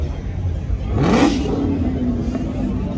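A car engine revs up sharply in the distance at an Atlanta car meet, rising in pitch for a moment before settling back to a steady hum.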